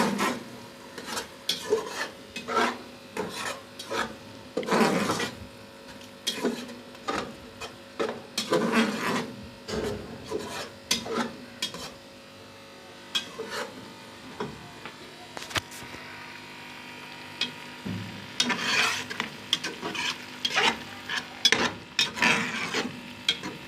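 Green chillies being stirred and roasted in a pan, heard as irregular close scraping and rubbing strokes of a spoon against the pan over a faint frying hiss, with brief pauses between bursts.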